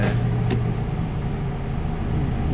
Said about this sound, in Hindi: देखिए ये लाइटें ऑन की हैं, आरपीएम डाउन हो रहा है और गाड़ी बंद होने के करीब आ जाती है